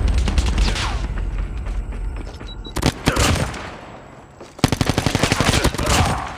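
Rapid automatic gunfire bursts in the mobile shooter game Call of Duty Mobile, loud and close, with a pause midway before another sustained volley of rhythmic shots.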